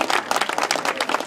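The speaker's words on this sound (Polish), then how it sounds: "Proszę państwa, brawa dla naszych rycerzy." Crowd applause for the knights at the Grunwald tournament, a brief burst of many hands clapping loudly and densely.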